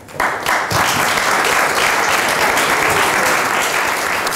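Warm applause for Tante Sidonia and Philip Mortimer at a Belgian comics event, loud and sustained as a full crowd claps continuously without pause.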